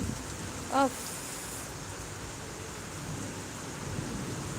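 A Kolkata thunderstorm with rain on a festival afternoon, heard as a steady, even wash of rainfall noise, with a brief tonal chirp near the start and no clear thunderclap.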